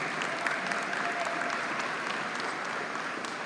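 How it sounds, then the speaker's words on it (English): An audience at a school signing day ceremony applauds for two coaches, a continuous even patter of many hands clapping, a bit distant. "give a big round of applause to Coach Carrasco and Coach Bernal"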